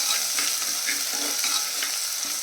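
Onions fry in a pan with ginger-garlic paste, giving a steady bright sizzle with a few soft stirring scrapes. The sound is close and loud, with no voices.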